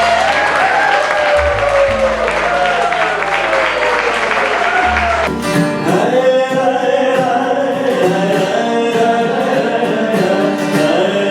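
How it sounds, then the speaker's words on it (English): An audience at a poetry contest applauds a third-prize winner: loud, continuous crowd clapping that swells and holds throughout, with a musical tone under the first half. "let's give a huge, warm round of applause for Rumi"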